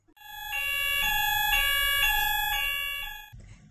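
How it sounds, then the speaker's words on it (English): A building fire alarm sounds during its weekly Monday morning test, a loud electronic tone pulsing in steady repeated bursts for about three seconds before cutting off. "The fire alarm is tested every Monday at 10 a.m."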